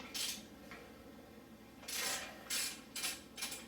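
Metal clinks and light scraping ring out near a KTM 300 motorcycle as an exhaust pipe bolt is worked free, coming in short bright bursts at a low, quiet level with no voices.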